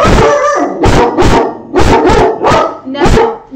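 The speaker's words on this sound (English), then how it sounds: "While your dogs are barking at the mail lady" Several dogs bark at a mail carrier, a quick run of loud, close barks and yips in irregular bursts with short gaps between them.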